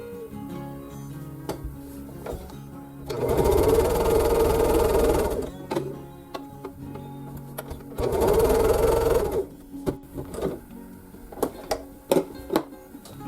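A sewing machine chain piecing quarter-inch seams on quilt blocks runs in two steady bursts of several seconds each, close and loud, with quiet gaps and small clicks and handling sounds between the runs.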